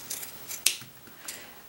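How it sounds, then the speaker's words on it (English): Scissors snip through wet, puffed-up craft sponges, a few soft, close cuts with one sharper, crisp snip in the middle, alone without talking. "And I'm going to cut them."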